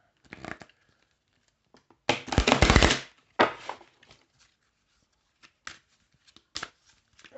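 Cards being shuffled in a few quick bursts, one long riffle in the middle, followed by scattered light card taps and flicks.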